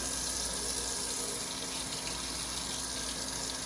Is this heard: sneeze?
no